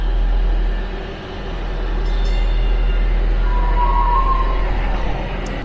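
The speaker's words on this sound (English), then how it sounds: "The train is awful loud." A Texas commuter train heading from Denton toward Dallas rumbles loudly along the rails, a continuous heavy roar with metallic squeals rising briefly over it.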